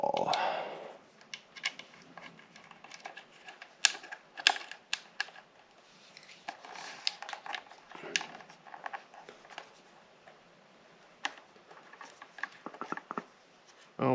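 Small bolts being removed from a plate on an Arlen Ness Big Sucker air cleaner with a 1/8 Allen key, a run of faint close metallic ticks, taps and clicks at an irregular pace.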